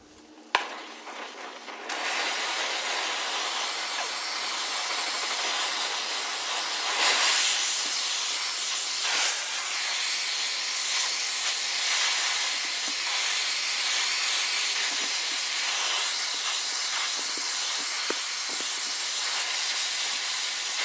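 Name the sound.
acetylene torch flame hissing while preheating a grinder shaft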